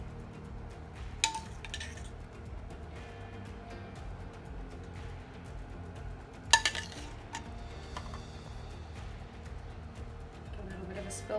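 A spoon scrapes and clinks against a dish while stirring cauliflower florets and leaves, with a few sharper knocks over steady background noise and a voice talking throughout.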